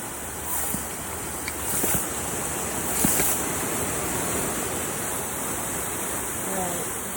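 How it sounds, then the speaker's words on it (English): Garden plants are watered with a constant broad hiss of spraying water, close and steady throughout, with a few faint knocks and a brief voice-like sound near the end. "Can I water my plants, please?"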